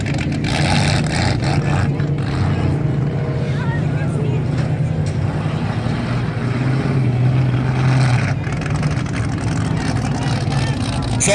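Modified-class race cars roar around Valley Raceway during a feature race, a continuous loud engine drone with shifting pitch as cars pass, under crowd and announcer noise.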